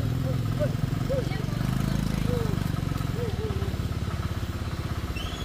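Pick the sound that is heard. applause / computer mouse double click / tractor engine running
tractor engine running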